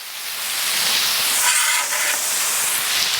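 Onion burgers sizzle steadily on a Blackstone griddle, a continuous bright hissing spray of frying fat and steam that stays loud and even throughout.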